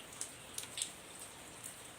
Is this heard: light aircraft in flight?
no